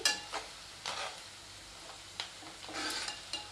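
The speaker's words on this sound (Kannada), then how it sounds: "ಆ ರೀತಿ ನಾವು ಇದನ್ನು ಫ್ರೈ ಮಾಡ್ಕೋಬೇಕಾಗ್ತೈತಿ" Ingredients frying slowly in oil over low heat. Faint, intermittent stirring scrapes and soft clinks sound over a quiet, gentle sizzle.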